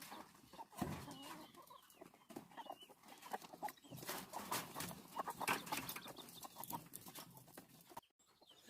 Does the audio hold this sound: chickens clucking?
yes